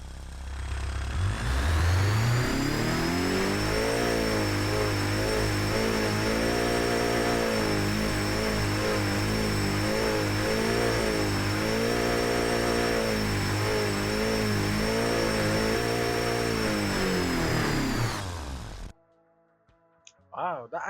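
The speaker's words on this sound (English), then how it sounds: "Let's fire it up. 330 horsepower out of this beautiful green top-ish looking 4-cylinder." A green 4-cylinder car making 330 horsepower in the Automation game starts up and revs loudly, its engine note rising and holding steady for about eighteen seconds before cutting off abruptly.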